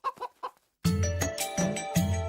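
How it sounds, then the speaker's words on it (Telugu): Chickens in a compound let out loud squawks and clucks in a dense, agitated burst after a few short voice-like sounds and a brief pause, all close to the listener. "కాంపౌండ్ లో కోళ్ళ అరుపులు పడుతున్నాయి"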